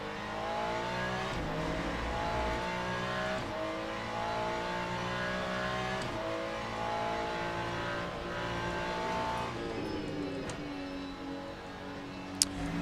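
A Mustang GT race car engine in the video game Le Mans Ultimate revs and drones steadily throughout, rising and falling in pitch as it accelerates, loud and continuous with no voices.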